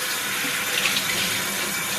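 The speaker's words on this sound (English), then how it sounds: "let me see if I can rinse the inside of this." Tap water pours and splashes inside a vacuum cleaner part being rinsed at a sink, a steady close hiss of running water with no pauses.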